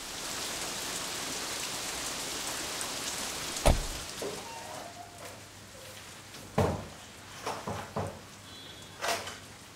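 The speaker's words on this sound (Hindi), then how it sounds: "इस समय बारिश हो रही है" Steady rain falls outside a stopped car, a constant soft hiss with a few sharp knocks and thuds from nearby movement breaking through.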